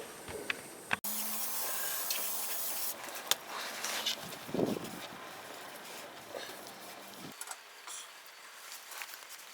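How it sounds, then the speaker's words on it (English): Aerosol brake cleaner sprayed onto a bearing race during a Ford F-150 rear differential bearing replacement, a steady broadband hiss lasting several seconds, close and fairly loud, stopping near the end. "I'll go ahead clean that up real good with brake clean"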